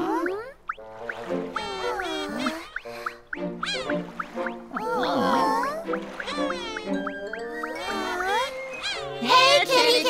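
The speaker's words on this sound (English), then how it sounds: "Whoa, that really sounds like a cat." Cartoon cat meows, a run of high, bending cries repeated over several seconds and woven through lively children's-show chatter and music, fairly close and clear.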